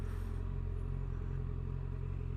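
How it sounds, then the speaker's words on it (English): A motorcycle slowing under engine braking with the throttle closed, its engine droning low and steady at close range, with a faint clatter throughout. "The bike is slowing down because of engine braking."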